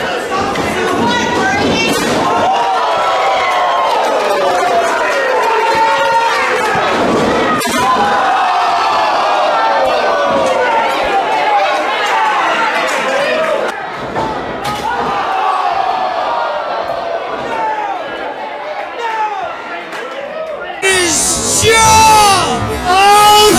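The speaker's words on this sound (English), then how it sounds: "the crowd's chanting, this is awesome" A packed wrestling arena crowd chants 'this is awesome' after a steel ladder is bent and broken, loud rhythmic massed voices with cheering swells, ending in a burst of sharper shouts.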